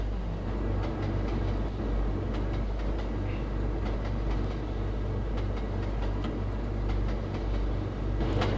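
A simulated train in the Trainz video game arrives at Shinkansen station, its low continuous rumble carrying faint rhythmic clicks and rattles, steady and moderately loud throughout.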